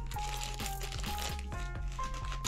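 Crinkly plastic product packaging from a Dum1 Technology unboxing is opened, giving close, continuous crackling and rustling with short sharp crinkles.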